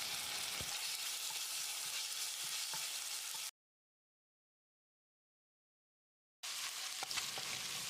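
Ginger garlic paste fries with onions in a pan for vegetable biryani, giving a steady, busy sizzle. The sound cuts out into total silence for a few seconds, then returns.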